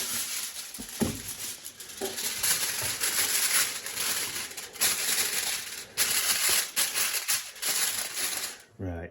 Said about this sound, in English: we need to loosely cover this with foil